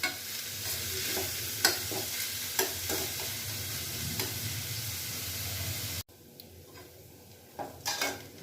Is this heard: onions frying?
yes